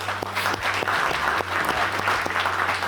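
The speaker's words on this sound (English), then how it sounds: "So give them a round of applause, please." An audience claps for park employees at a ribbon cutting for a new train platform at Noccalula Falls Park, steady dense applause throughout with a low musical drone underneath.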